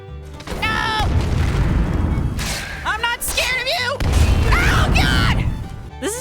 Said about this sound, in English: it really makes those magic explosions pop